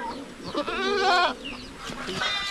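Goat bleating at close range on a small farm, a wavering nasal call that rises and holds for about a second before falling off, followed by a shorter, fainter bleat.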